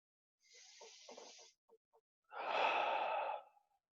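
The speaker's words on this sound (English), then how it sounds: "like every good meditation, we start with some breathing." Deep meditative breathing: one slow, airy inhale, a brief pause with a couple of faint catches, then a longer, louder exhale sighing out close to the ear.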